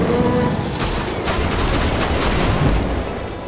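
Enemy gunfire in Wolfenstein: The Old Blood, a dense, continuous fusillade of rapid shots and bursts layered over one another, steady and loud throughout with no speech.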